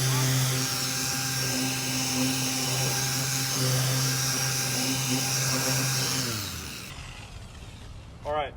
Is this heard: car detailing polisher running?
yes